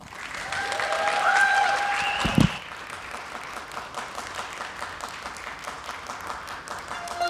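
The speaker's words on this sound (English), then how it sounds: "please join me with a warm round of applause welcoming Jessie Factor." Audience at a dance talk applauds to welcome a speaker onstage, a broad, steady patter of many hands that starts with a brief tonal sound and a thump, then continues evenly and fairly softly.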